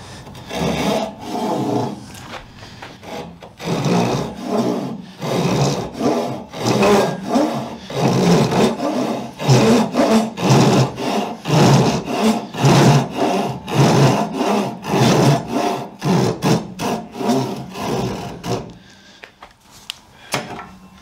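A Japanese ryoba pull saw cuts through wood in quick, even rasping strokes, one after another at close range, with no talking until the strokes slow and stop near the end.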